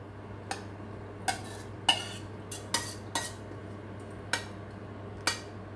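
A ladle scoops boiling water onto minced pork and tips it into a pan for tom yum instant noodles, giving a series of about eight distinct metallic clinks over a steady low hum.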